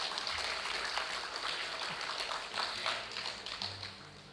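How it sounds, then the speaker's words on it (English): An award event audience applauds an honoree, Indar Paul Bihari, with moderately loud, scattered clapping that rises and falls over a few seconds, accompanied by faint low background hum. "Let's give him a round of applause."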